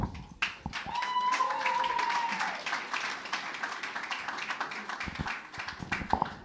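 An audience applauds for the guitarist at a live band gig, with steady, dense clapping that carries on for several seconds, a brief high tone near the start, and cheers rising toward the end.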